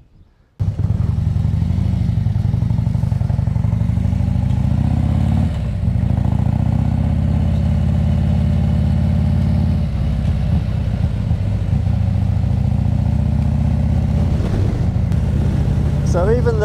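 A motorcycle engine drones steadily while riding along a coastal road, loud and close with constant wind rumble, starting abruptly after a short quiet moment.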